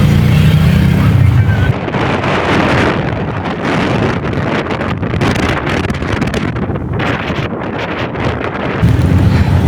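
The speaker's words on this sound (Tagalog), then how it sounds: "Grabe lakas ng hangin naman dito." Strong wind at a seaside dike in Malabon buffets the microphone in a continuous loud roar, with gusty rumbling swells throughout and no voices.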